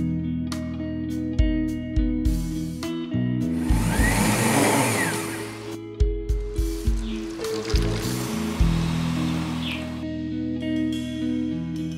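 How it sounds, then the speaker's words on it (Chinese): A blender grinds soaked, drained rice with water into rice milk, a loud steady whirring motor with deep tonal hum, surging and churning in the middle, broken by repeated thumping pulses and sloshing. "加入甘甜的水打成米浆。"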